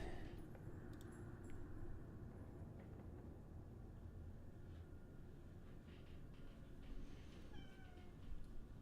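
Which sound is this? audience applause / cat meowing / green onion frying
cat meowing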